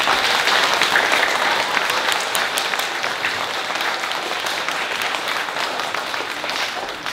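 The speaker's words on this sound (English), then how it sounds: "Let's give them a big round of applause." A large crowd at a primary school presentation day claps steadily, loud and close, the applause dense and continuous for the whole stretch and tapering slightly toward the end.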